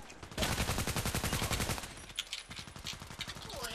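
Rapid automatic gunfire in the online shooter Contract Wars, a dense rattling burst that runs loud and steady for over a second, then thins into scattered shots with speech underneath.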